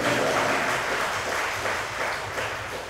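Congregation clapping together during a Korean church Sunday service, a steady broad wash of applause filling the room throughout, moderately loud and without speech.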